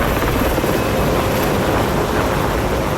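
A helicopter flies close by, with a loud, steady, dense rotor roar that fills the whole stretch without a break.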